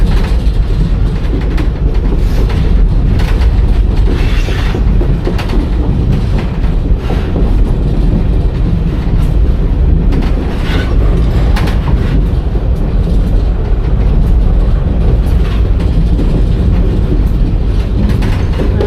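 A Reading & Northern passenger train rolling along the rails, heard from on board as a loud, continuous rumble with steady wheel clatter and occasional clicks, no talking.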